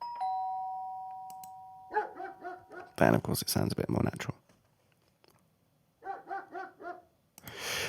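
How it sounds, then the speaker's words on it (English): A doorbell chime rings with a sustained tone, then a dog barks in a short run of barks, a broadband noise burst follows, then more barking; a voice talks over parts of it. "If we ran the doorbell and then the dog bark"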